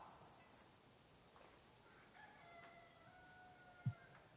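A distant rooster crows in the medieval village of Kingdom Come: Deliverance II, a drawn-out call that is faint and carries, followed by a short thump against a quiet ambient background.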